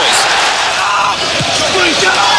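Stadium crowd roaring and clapping after Blackburn Rovers score, a loud sustained wash of cheers with scattered shouts throughout.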